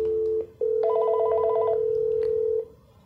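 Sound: IP phone ringing

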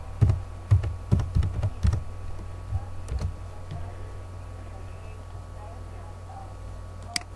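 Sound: typing text into a spreadsheet on a computer keyboard

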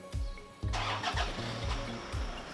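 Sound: Toyota Fortuner engine starting

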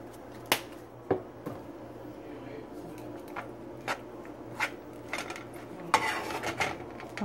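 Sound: mixing turmeric rice in a pot

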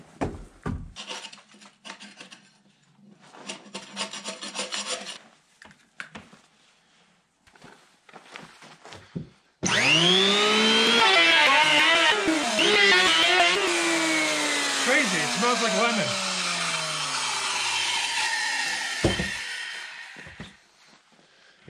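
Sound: planing a wooden post

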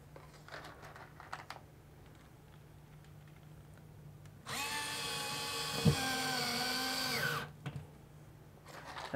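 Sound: small electric driver with torque settings driving wall anchors

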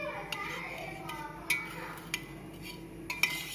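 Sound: stirring cardamom mix into rose milk

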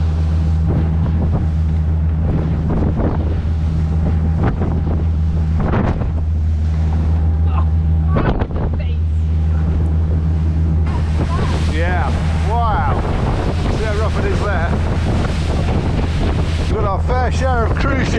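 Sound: boat riding across waves in the wind

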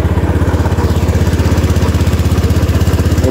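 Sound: Honda Beat scooter engine running after oil change

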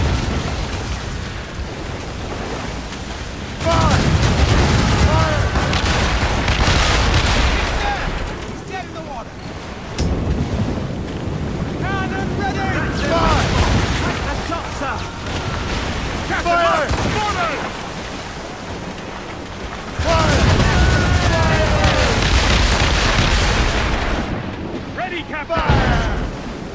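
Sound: naval cannon fire in video game Assassin's Creed Rogue

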